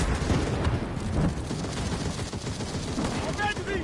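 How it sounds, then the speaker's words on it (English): Dense gunfire fills a World War II-style battle in the shooter game Enlisted, steady crackling shots and bursts going on without a break, with some voice mixed in underneath. "Where those shots are coming from, I have no idea."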